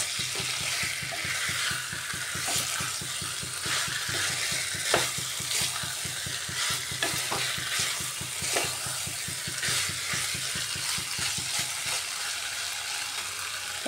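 Diced potatoes and spices stir-fried in a pan for a potato curry, a steady soft sizzle with repeated scraping strokes of a spatula in a quick, regular rhythm, no voices.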